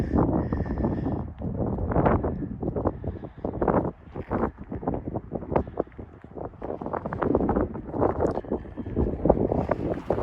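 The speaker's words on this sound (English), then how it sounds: "The wind's got to be blowing 30 miles an hour, maybe gusts higher than that." Strong wind of about 30 miles an hour, gusting higher, roars and buffets the microphone in continuous gusts at a campsite in Colorado National Monument, loud and rumbling, with no talking.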